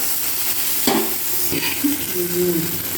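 Vegetables frying in a pan with seeds and stalks, a steady sizzle with a few stirring scrapes and a brief burst as water goes in, then a softer bubbling hiss.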